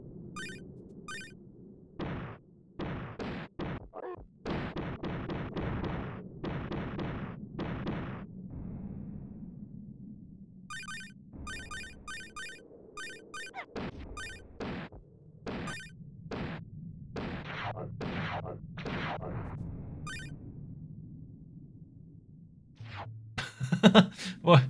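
Repeated gunshots from the SNES Indiana Jones game, loud bursts of fire in quick clusters with short gaps, without music, ending in a louder blast.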